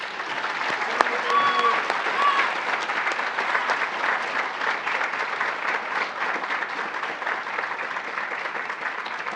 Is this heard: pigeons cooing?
no